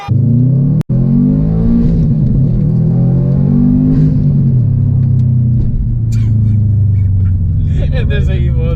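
A Subaru STI's engine roars up at full throttle, a deep rising rumble that holds loud and close, with voices talking over it.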